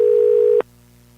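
A landline telephone tone on a radio hotline call sounds loud and steady for about half a second, then cuts off abruptly, leaving a faint hum and no talk.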